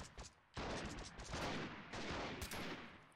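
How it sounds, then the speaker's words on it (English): Rapid enemy gunfire in the shooter game Freeman: Guerrilla Warfare, with dense, continuous bursts of shots and crackling impacts that are loud and close and stay sustained for most of the clip after a brief quieter start. "I don't like how they're shooting through the ledge of the building here and hitting me still."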